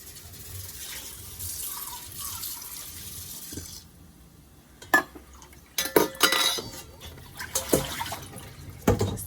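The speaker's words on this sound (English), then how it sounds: "I'm gonna drain the lentils and the rice" Cooked lentils and rice are drained, with running water trickling and splashing into a sink, followed by scattered clinks and knocks of a pot or strainer, moderately close; no speech.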